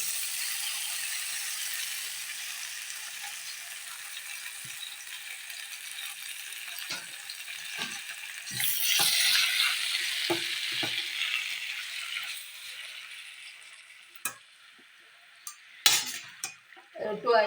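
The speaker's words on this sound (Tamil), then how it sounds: "இந்த கீரையை கட் பண்ணி வச்சுருக்கோம் இதை கொஞ்சம் வதக்கிக்கலாம் போதும்" Chopped palak spinach is sautéed in a pan with cumin seeds, giving a soft sizzle with scattered spatula scrapes and metal clinks and a louder burst of frying partway through.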